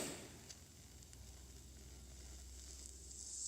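TIG welding with silicon bronze filler gives a steady, faint sizzling hiss with a low hum beneath it, uninterrupted for a few seconds.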